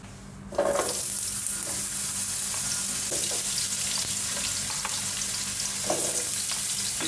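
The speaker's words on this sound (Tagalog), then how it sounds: "Iprito muna natin ng half fry yung ating carrots at saka patatas." Sliced carrots and potatoes half-frying in hot oil in a pan. A steady, close sizzle runs throughout, with occasional spatula stirs and clinks.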